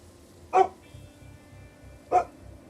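A dog barks twice in the Project Zomboid video game, two short, fairly loud single barks about a second and a half apart over a low rhythmic background pulse.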